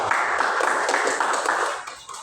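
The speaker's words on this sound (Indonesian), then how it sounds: "Tepuk tangan juga buat teman kita." Classroom of fifth-grade students claps together for a classmate, a brisk, fairly even burst of hand claps that tapers slightly near the end.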